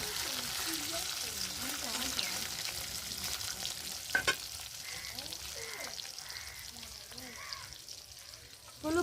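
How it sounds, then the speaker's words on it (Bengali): Tangra fish frying in hot oil in a home kitchen, a steady crackling sizzle with occasional bubbling pops and a brief clatter midway. "বাকি মাছগুলো এভাবে ভেজে নেব"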